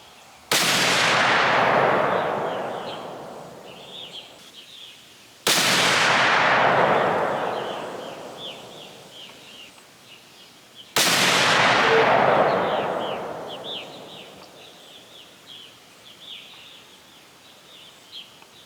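Three loud rifle shots from a .30-06, one every five to six seconds, each a sharp crack with a long rolling echo across an outdoor range at 100 yards, with faint birdsong between shots.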